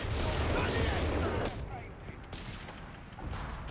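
Explosions and gunfire in a Company of Heroes 3 2v2 battle, including a grenade launcher: a loud, dense barrage at first, then scattered booms and bursts further off.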